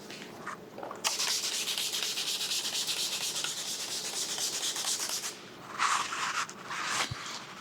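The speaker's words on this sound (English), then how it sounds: "Which means I can now squeegee all this." A squeegee is dragged firmly across paint protection film on a Ferrari GTC4Lusso in a steady, loud stretch of rubbing. The strokes briefly pause, then resume in shorter passes near the end.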